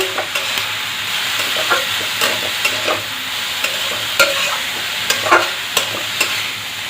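Red spinach sizzles over a low flame in a pan with salt and turmeric, while a spatula stirs it with frequent clicks and scrapes against the metal. The sound is close and fairly loud, with no voices.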